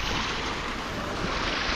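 Snowmelt water rushes steadily and continuously down from above on a mountain trek, a loud, even roar of flowing stream with no pauses and no voices.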